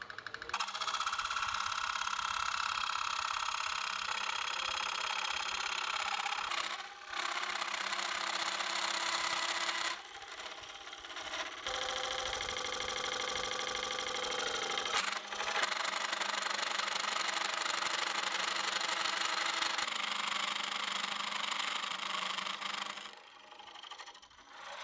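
A Woodcut Bowlsaver coring system cuts into a bowl blank on a wood lathe, giving long stretches of harsh rasping and scraping broken by short pauses, loud and close, with no talk.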